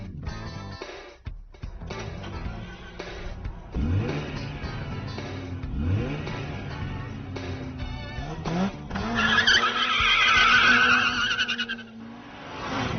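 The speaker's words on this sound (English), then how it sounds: "Let's go take a fast hot lap around this great racetrack in a Mazda RX-8." A 2008 Mazda RX-8 hot-lapping Mazda Raceway Laguna Seca revs hard through the gears with repeated rising engine sweeps and shifts, then tires squeal loudly through a corner near the end, heard from inside the car.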